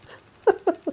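Three short, breathy snorts in quick succession after a faint rustle, close and fairly loud, sounding like a small creature huffing through its nose.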